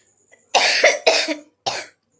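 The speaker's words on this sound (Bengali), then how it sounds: "সরি বন্ধুরা একটু কাশি হচ্ছে" A woman coughs three times in quick succession, loud and close, with short gaps between the sharp bursts and quiet around them.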